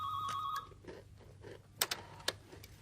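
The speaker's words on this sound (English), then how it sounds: "sometimes the phone rings but we don't answer" A telephone rings in a radio drama, two clear bursts of ringing at the start, then a quieter pause and a few sharp clicks and knocks close by.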